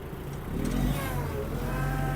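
A Mitsubishi MT-246 mini-tractor in low gear pulls away while turning, its small diesel engine rising from idle to a steady working drone, close by, with no talk over it.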